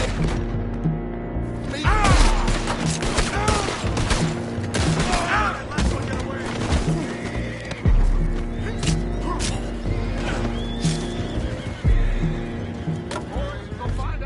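Horses whinny and neigh amid chaotic gunfire bursts and clip-clopping hooves in a Red Dead Redemption 2 shootout on a boat, with shouting voices mixed in throughout.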